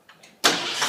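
A 1967 Ford Mustang coupe engine cranks faintly for a moment, then catches and roars into a loud, steady run up close, with no one speaking.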